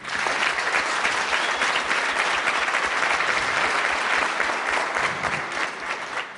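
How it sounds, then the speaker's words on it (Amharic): A studio audience at a televised Ethiopian dance talent show claps in loud, sustained applause, a dense and even roar of hands that holds steady throughout. "የሴቶቹን ኤነርጂ አጨብጭቡለት።"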